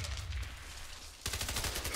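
Rapid, dense automatic gunfire from the engineer's high-fire-rate gun in the shooter Warface, loud and close in the Hangar PvP map, a steady burst with a brief shift partway through, no speech.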